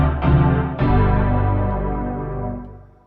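Native Instruments Dirt distortion plugin on a dark bass preset: two loud, gritty bass synth notes, the second ringing out and fading over a few seconds, with nothing else heard.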